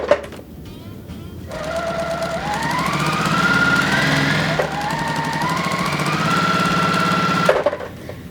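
Sewing machine stitching the rows of a quilt's nine-patch block together, a steady continuous motor whir with changing pitch as speed varies, running close and loud for several seconds before stopping.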